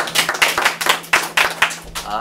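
A crowd applauds with a short burst of rapid, steady clapping that fades out near the end.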